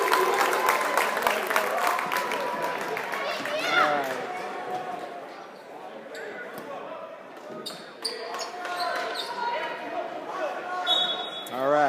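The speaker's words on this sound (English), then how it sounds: "And the Medford crowd is going wild over here." Medford fans crowd noise fills a high school basketball gym, a steady roar of cheering and chatter with squeaks and bounces, loud throughout with a voice talking over it.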